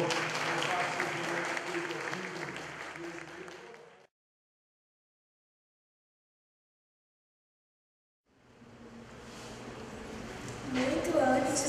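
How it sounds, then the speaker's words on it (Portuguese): Church congregation applauding during a Christmas service, a dense, loud wash of clapping from a crowd, broken by a gap of silence before the applause swells back in. "vamos dar uma salva de palmas ao Senhor."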